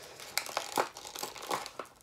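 Stiff plastic packaging on a baby kit crinkling and crackling as it is being pried open, close irregular bursts of crinkles with short pauses between.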